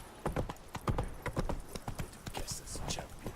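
Horse hooves clip-clop at a steady gait in The Witcher 3, a run of sharp, close hoofbeats with a rider's voice calling out over them and a brief whinny-like tone near the end.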